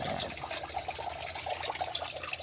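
Water from a main tank flows steadily into a backyard catfish breeding chamber, a continuous close splashing trickle at moderate level with no talk over it.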